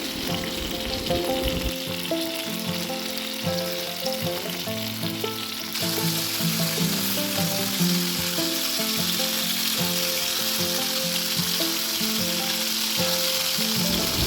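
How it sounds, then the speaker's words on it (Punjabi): Long brinjal (eggplant) pieces shallow-fry in oil in a pan with a steady, close, continuous sizzle and occasional stirring or turning, and no talking. "ਆਪਾਂ ਇਹਨੂੰ ਕਰਾਂਗੇ ਸ਼ੈਲੋ ਫਰਾਈ ਤੇ ਨਾਲ ਦੀ ਨਾਲ ਥੋੜਾ ਥੋੜਾ ਆਪਾਂ ਇਹਨਾਂ ਨੂੰ ਪਲਟਾਉਂਦੇ ਰਹਾਂਗੇ"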